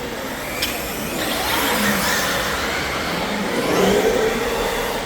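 A Shiroi truck's engine revs and drones on a race track, holding a steady mid-pitched roar that swells twice as the throttle opens, with a faint click near the start.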